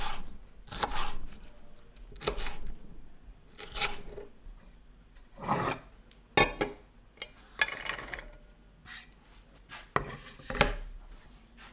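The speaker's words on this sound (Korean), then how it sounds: "파입니다. 너무 작지는 않은 크기로 썰어줍니다." Knife slicing green onion into fairly large pieces on a cutting board, a series of distinct close, crisp cuts spaced about a second or two apart, each a sharp knock against the board.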